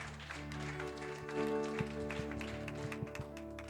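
A church congregation claps rhythmically along with soft music, the beats fairly even, quiet and somewhat distant.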